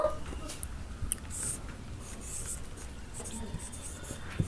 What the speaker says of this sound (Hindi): मैं यहाँ एक वाक्य लिख रही हूँ।